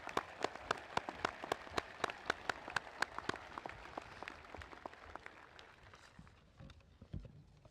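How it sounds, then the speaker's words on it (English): At a school graduation ceremony, an audience claps, sharp separate hand claps in a quick irregular stream that gradually thins and grows fainter before a low thump near the end. "Let's give them a big round of applause."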